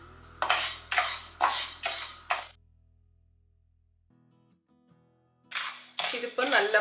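Parboiled rice is dry-roasted in a pan over a low to medium flame. Quick rattling stirring strokes come in a burst of about five, then a quiet pause, then another run of scraping rattles.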